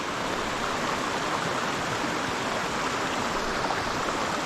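Small waterfall and stream at a fly-fishing spot, a continuous, even hiss and rush of flowing water heard alone at a moderate distance.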